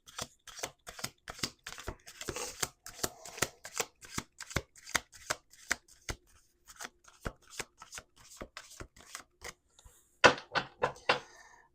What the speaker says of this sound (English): We're going to do one more shuffle.